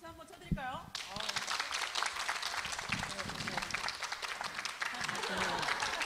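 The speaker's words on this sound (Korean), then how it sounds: "박수 한번 쳐드릴까요?" Dense clapping from a seated audience at a picture-book activists' experience-sharing event fills the room steadily after a brief spoken lead-in, staying loud and even to the end.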